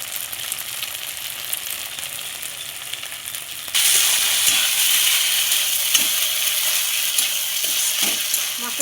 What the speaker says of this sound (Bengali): দেখুন মশলাটা দিয়ে আলুটা আবারও আমি খুব সুন্দর করে কষিয়ে নেব।